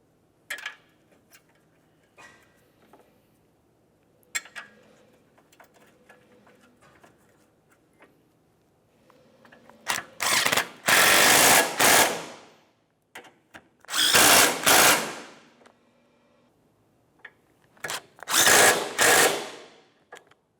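A power tool tightening the mounting bolts of a 2006-2011 Honda Civic front bumper bracket: three loud whirring bursts of a couple of seconds each after quiet ticking and clinking of parts.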